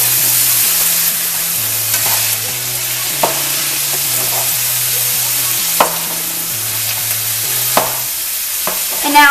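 Butter melting and sizzling in a pan while making country-style biscuits and sausage gravy: a steady, close frying hiss with a few sharp crackles and pops, a low tonal hum running underneath, and no talking.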